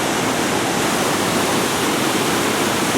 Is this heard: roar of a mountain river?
yes